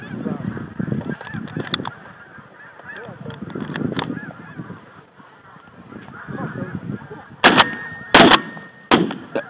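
Snow geese call during a spring hunt: a dense chorus of honking fills the clip, and near the end several loud, sharp shotgun blasts ring out.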